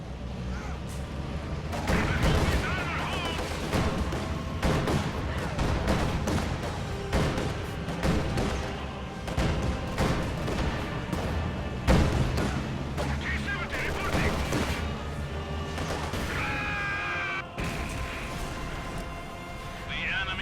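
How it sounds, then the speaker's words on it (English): In a real-time strategy game battle, gunfire and artillery explosions rumble and crack continuously for about twenty seconds, with heavy booms and scattered shots mixed under voice lines and radio chatter. "We are taking fire."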